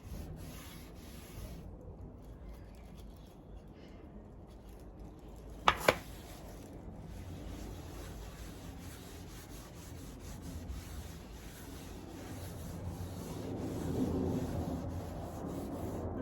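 Cloth rubbing clear wax heavily onto the top of a painted grey piece of furniture, a steady soft scrubbing and swishing close by, with a brief sharp knock partway through.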